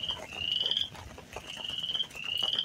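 Spring peeper tree frogs call on a stormy evening, their high, thin peeps repeating in several drawn-out rising bursts over a soft, steady background wash.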